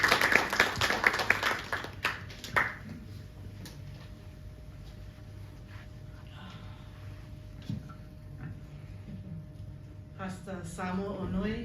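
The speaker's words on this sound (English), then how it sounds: "Round of applause, please." Brief applause from the audience at a Samoan logo launch event greets the president coming onto the stage, a couple of seconds of clapping that quickly trails off into room quiet before someone starts speaking.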